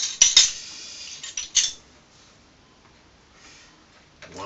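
Metal teaspoon clinking against a container while measuring wine yeast nutrient for a honey and apple cider homebrew, a few sharp close taps early on, then near silence and one more faint clink.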